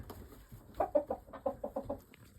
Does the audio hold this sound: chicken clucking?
yes